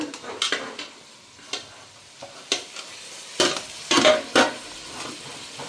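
Vegetables for pulao, potato, carrot and beans, stirred in a frying pan, a soft low sizzle broken by repeated scraping spoon strokes, several in quick succession, close by and without talk.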